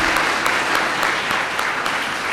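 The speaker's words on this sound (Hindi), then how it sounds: "भरपूर तालियां आप सबकी।" A church congregation claps warmly during a cake-cutting for a priest's 33rd ordination anniversary, a close, continuous patter of many hands with a few sharper claps standing out.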